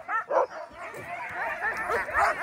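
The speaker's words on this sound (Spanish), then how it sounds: "Están desesperados por arrancar. Por eso ladran tanto." Husky sled dogs in Lapland, Finland bark and yip eagerly before a sled run, a steady overlapping chorus of nearby barks and whines with voices mixed in.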